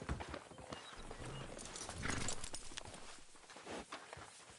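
Horse hooves clip-clopping in Red Dead Redemption 2, a steady walking rhythm close by, with a brief whinny partway through and game ambience underneath.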